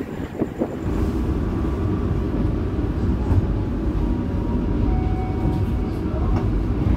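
KA Menoreh passenger train running from Jakarta to Semarang at night, heard from inside the carriage: a loud continuous low rumble of wheels on rails with rattling and wind roar, steady throughout.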